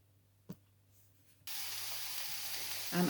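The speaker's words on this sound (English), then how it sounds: "Okay, so I'm just going to get that frying down." After a brief tap, a sudden loud sizzle erupts as food hits a hot pan and keeps hissing steadily, ending with a clatter.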